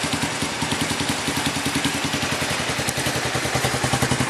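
A 1985 Honda Fourtrax 250 ATV engine idles close by with its fuel shut off, a steady rapid putter of even pulses and mechanical clatter running continuously.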